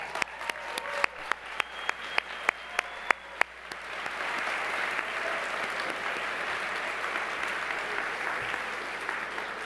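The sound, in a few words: audience applause at awards ceremony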